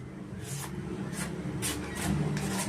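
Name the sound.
re-sharpening a knife made from old scissors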